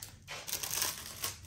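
Scissors snip a piece off a filled piping bag for cake decorating, giving a short crunchy, crinkly cut with two quick bursts, close and fairly quiet.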